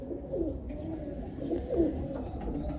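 Pigeons coo softly in a loft, several low burbling calls over a rustling, busy background with no voices.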